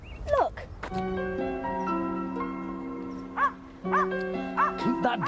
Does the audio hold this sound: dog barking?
yes